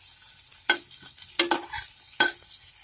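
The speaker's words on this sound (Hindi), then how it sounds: "देखिए इधर डालेंगे लहसुन" Garlic sizzling in a pan of butter and oil, a soft continuous frying hiss with a few sharper spatters and stirring clinks, close and brief with no talk.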